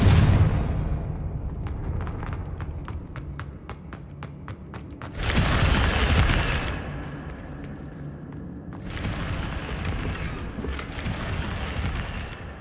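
A Confringo explosive spell goes off in a Harry Potter video game: a sudden loud blast with a roaring burst that fades, followed by a second sustained rumbling eruption, between quieter stretches of faint game sounds.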